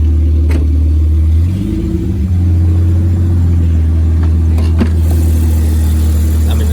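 A 1996 Jeep Grand Cherokee engine runs close by with a steady, deep rumble, briefly rising in pitch as it revs before settling back into an even idle.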